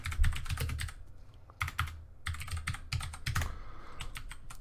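Fast, uneven typing clatters on a computer keyboard in irregular bursts with short pauses between them, close and fairly loud, with no one talking.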